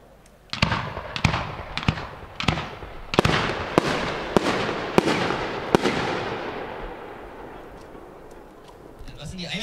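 A large fireworks display fires 75 mm shells, sending about nine sharp booming reports at irregular intervals over several seconds, each trailing into crackling echo, then fading to quieter rumble.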